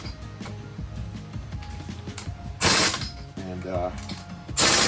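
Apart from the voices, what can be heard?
ratchet torquing down wheel spacers on a Chrysler 300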